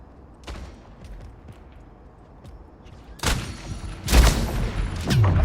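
Video game gunfire from hip-firing in the arena shooter Splitgate: a soft early shot, then several loud, sharp bursts in the later half, each with a short ringing tail.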